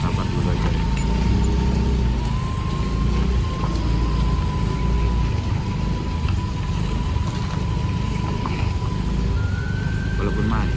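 Cars and buses in a slow traffic jam on a road near the Lembah Anai river, a dense, loud and continuous rumble of engines and road noise with a faint whine running through it.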